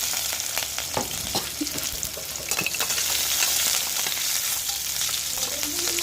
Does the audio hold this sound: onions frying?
yes